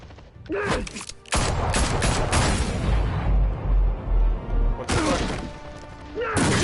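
Heavy gunfire in the Batman Telltale series game: a sustained, loud burst of rapid shots and crashing impacts, followed by sharp single shots and clatter near the end.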